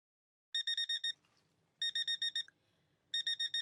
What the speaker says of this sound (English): pressed snooze on her alarm clock